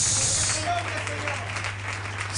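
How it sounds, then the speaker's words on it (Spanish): A church congregation applauds in praise during a worship service, a steady wash of clapping that runs throughout, loudest at the very start, with a low steady hum underneath. "Ese aplauso de alabanza es para el Señor."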